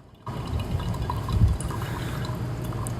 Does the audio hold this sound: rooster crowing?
no